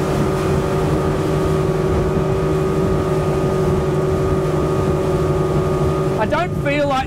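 A 2021 Nimbus T9X motorboat running at fast speed through turns, twin engines droning steadily and loudly throughout, with a voice briefly speaking near the end.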